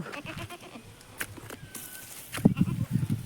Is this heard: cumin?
no